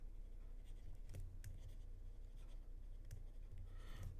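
A pen scratches out an answer on paper or a board during a physics class, faint irregular strokes with brief sharper taps over a steady room hum, no voices.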